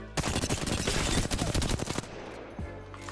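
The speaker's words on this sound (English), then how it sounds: "I'm going to constantly crouch while trying to hit most of my bullets here." Rapid automatic gunfire from crouch hip firing at a training mannequin in Apex Legends, a dense loud burst for about two seconds followed by a short tail of quieter game sounds.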